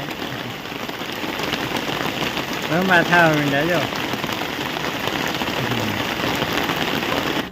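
Steady rain falls on surfaces in a Botad village, a constant dense patter filling the whole stretch, while a person speaks briefly near the middle.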